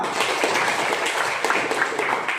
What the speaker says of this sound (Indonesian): Oke, bagus kelompok B. Tepuk tangannya.